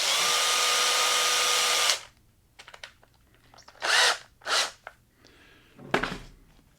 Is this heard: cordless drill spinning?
yes